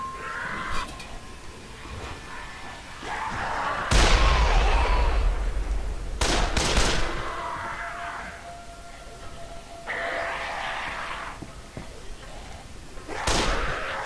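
Heavy gunshots in the zombie survival game Dead Island: Riptide, a few loud booming blasts spaced several seconds apart over a steady ambient game background, with no talk.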